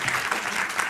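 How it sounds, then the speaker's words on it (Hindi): Studio audience at a televised Hindi political debate show applauding two debaters, a dense steady wash of clapping filling the whole short moment with no voices over it. "भाई ताली बजा दीजिए"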